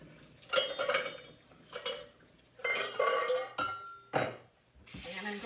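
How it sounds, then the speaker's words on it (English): A pot of eggs boiled for about ten minutes is drained of its hot water, with several bursts of clanking metal and rushing, splashing water separated by short pauses, close and fairly loud. "I'm going to drain the hot water off"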